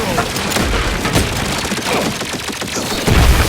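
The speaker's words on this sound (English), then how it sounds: "Who's shooting me?" Loud, sustained gunfire from The Outer Worlds 2, with rapid shots and booming impacts running throughout, a heavier blast near the end, and a voice talking over it.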